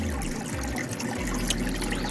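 Water trickles and dribbles steadily through a home aquarium filter, a soft continuous wash with a low hum beneath, close and moderately quiet with no talking.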